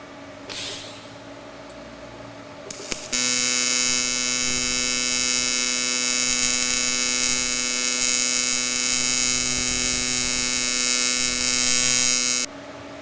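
An Everlast PowerTIG 255EXT TIG welder arc on a sine AC waveform gives a continuous, loud electric hum with strong harmonics, switching on after a few seconds of quiet and holding steady for around nine seconds before stopping.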